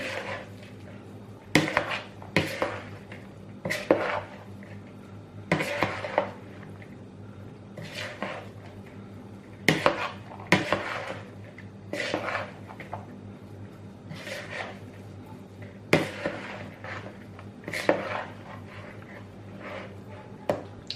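Kısır bulgur salad being stirred in a bowl, with soft wet squelching and repeated sharp scrapes of a utensil against the bowl at a steady, uneven rhythm, close and moderately loud.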